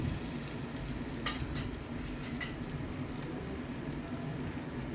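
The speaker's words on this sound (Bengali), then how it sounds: "এবার উপর পিঠটা ভালো করে লাল করে ভেজে নিচ্ছি" Vegetable fritters frying in hot oil, a steady dense crackle and hiss holding even throughout with a few sharper pops, close and moderately loud with no voices.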